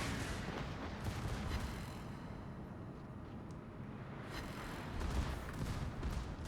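Battleship Amagi's heavy guns fire salvos in a naval video game, producing deep rolling booms over a continuous low rumble, with a louder swell near the end and no speech.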